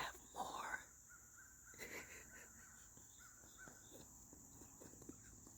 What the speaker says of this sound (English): The crow is saying